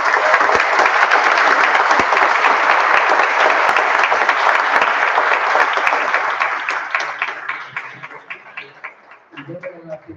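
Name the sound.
audience applause at a book presentation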